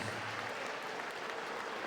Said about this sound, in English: could you please have a big round of applause for both of our